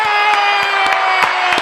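A crowd cheering and applauding at a Washington legal community gathering, with steady, loud, dense clapping and whoops throughout.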